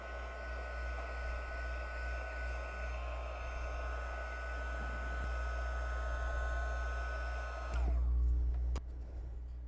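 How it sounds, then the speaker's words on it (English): A handheld heat tool blows steadily to set transparent pigment powder, a loud continuous whooshing hum with a steady tonal whine that holds for several seconds before shifting briefly near the end. "You can set this with a heat tool again if you're in a hurry."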